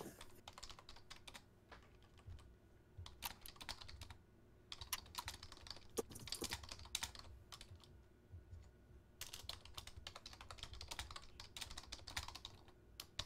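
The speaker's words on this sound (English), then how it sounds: "Are we all typing messages in the middle of this?" Someone types messages on a computer keyboard during a Dungeons & Dragons session, quiet rapid key clatter arriving in bursts separated by short pauses, with no talking.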